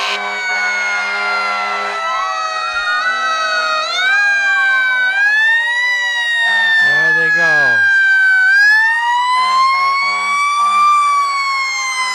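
Fire truck siren wailing loud and close during a high school homecoming parade, its rising and falling tones running throughout alongside a horn-like blast midway, with a voice speaking briefly over it.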